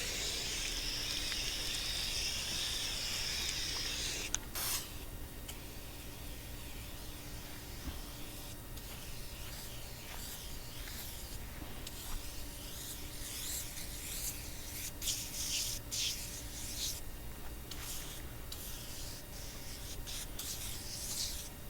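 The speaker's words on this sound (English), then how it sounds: "I'm going to use the spray foam" SuperClean spray foam blasts onto grill grates resting on a picnic table, a loud hiss for about four seconds, then quiet scrubbing and rubbing strokes that continue faintly and unevenly.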